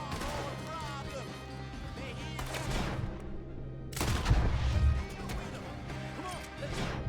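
Gunfire in Red Dead Redemption 2 at a barn shootout pops in dense rapid volleys under a busy game soundtrack, with voices talking over it and a louder cluster of impacts midway.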